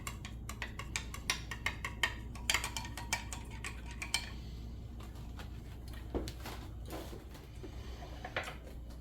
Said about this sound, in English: We're going to keep stirring it until we get to the desired result.